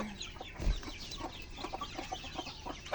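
A brooding hen among chickens and ducks gives soft, irregular clucks, close and fairly quiet, with a brief low thump early on and faint farmyard background.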